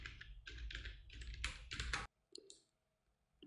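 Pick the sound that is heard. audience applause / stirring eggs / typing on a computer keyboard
typing on a computer keyboard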